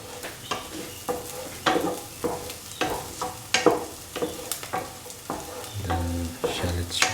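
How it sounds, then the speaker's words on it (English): Shallots sauté in a pan for a pumpkin shrimp stew, a steady close sizzle broken by repeated scraping strokes of a spoon stirring, with a few louder clatters near the end. "The shallots should be nicely roasted and should become a nice golden brown."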